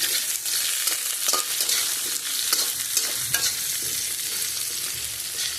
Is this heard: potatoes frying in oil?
yes